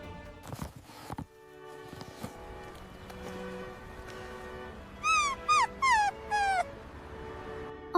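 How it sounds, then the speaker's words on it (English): A dog whimpers softly, then lets out a run of high, rising yips in quick bursts, with scattered thumps and footsteps earlier; no talking. "Keep your filthy dog!"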